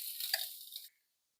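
A brief burst of hissing, crackling sizzle from halloumi cheese hitting a hot frying pan, fading out abruptly into silence after under a second.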